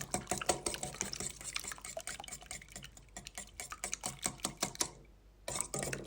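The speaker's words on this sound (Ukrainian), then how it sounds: "У миску додаємо яйці, сіль і цукор, і вінчиком все добре перемішуємо." Eggs, salt and sugar are whisked in a bowl, with rapid, close, rhythmic clicking and tapping of the whisk against the bowl, briefly pausing before resuming.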